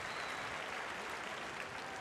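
Steady audience applause for a school achievement program's honorees at a Nebraska state boys basketball championship, a dense, even wash of clapping throughout.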